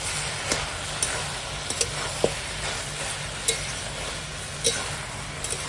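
Cabbage frying in a pan is stirred with a utensil, giving steady sizzling broken by repeated scraping clinks and knocks, close and fairly loud, with no talking.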